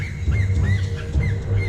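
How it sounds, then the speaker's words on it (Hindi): Harsh, hoarse bird calls of a hoatzin in a jungle, several short squawking notes repeating in a loose rhythm over a steady low background hum, fairly close and clear. "ये एक होट्जिन बर्ड की आवाज थी जो उसने पहले भी सुनी हुई थी।"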